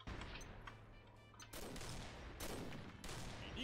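Gunfire in the online shooter Combat Arms, dense bursts of rapid automatic shots in repeated volleys with short gaps, loud and continuous over a noisy game background.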